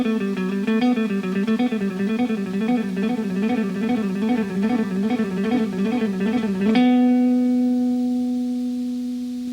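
A guitar plays a short picking exercise riff drilling upstrokes across strings: a fast, evenly repeated run of notes for about seven seconds, then one held note rings out and slowly fades, with no voices.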